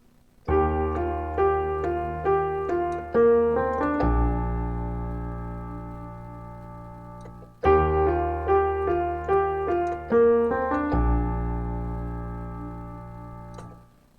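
A gentle piano melody from a worship song, plucked notes settling into a held chord, played twice in the same phrase, clear and close with no voices.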